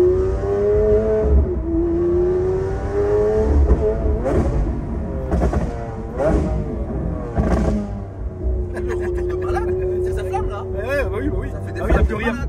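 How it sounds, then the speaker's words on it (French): Loud, raw engine revs from a car with a straight-through, valveless exhaust, sweeping up and down in repeated bursts close by, with excited voices talking over the roar. "c'est échappement direct sans clapet. C'est à dire c'est sans arrêt comme ça."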